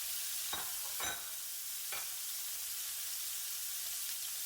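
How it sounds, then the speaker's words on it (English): Yellow-marinated chicken for pollo asado browns in hot oil with a steady, broadband sizzle, broken by a few brief louder spatters and pops in the first two seconds, then a constant crackle close by with no voices. "I'm just going to let it cook and brown for about 2 to 3 minutes on the first"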